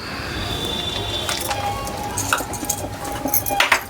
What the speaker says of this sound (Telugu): ఈ కస్టర్డ్ మళ్ళీ ఒకసారి మంచి ఇట్లా కలుపుకోండి.